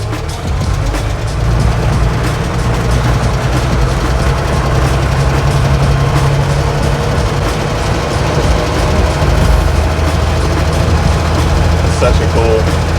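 A Mercedes-Benz Unimog engine drones low and steady while driving, a heavy rumble running throughout the clip with a person talking over it.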